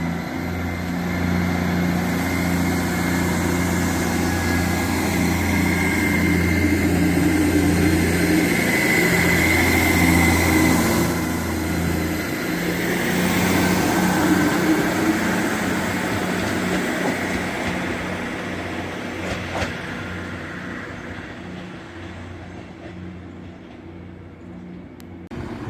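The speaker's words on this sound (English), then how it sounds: "Now departing is the ScotRail 158 725." ScotRail class 158 diesel unit 158725 departing North Queensferry station, its engine droning loudly and steadily as the train pulls away, then gradually fading into the distance.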